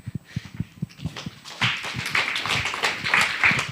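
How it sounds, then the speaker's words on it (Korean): A church high school youth group audience claps after announcements, with scattered separate claps at first that quickly build into fuller, denser applause lasting a few seconds. "광고해도 박수 쳐주는 거예요?"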